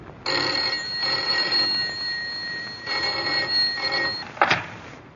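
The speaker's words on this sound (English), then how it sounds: "the commonplace ringing of a telephone" An electronic telephone ring repeats in three bursts of steady high tones, clear and close, ending with a short clatter as the receiver is picked up.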